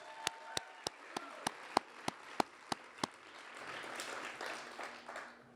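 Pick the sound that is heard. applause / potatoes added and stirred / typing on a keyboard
applause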